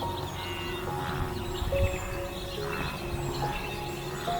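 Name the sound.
faint bird chirping and wind over savanna grassland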